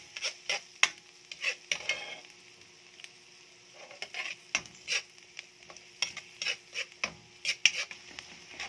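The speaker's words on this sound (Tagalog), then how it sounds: "nilagay na yung ating bawang. Gisa-gisa lang tayo guys." Garlic sautéing in butter in a pan, with repeated sharp stirring scrapes and clinks of a utensil against the pan over a soft background sizzle.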